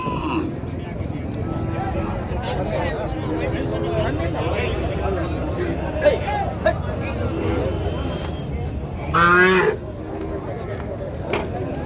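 Plough bulls at a busy cattle market, with occasional lowing and animal calls over a constant crowd babble and nearby talking.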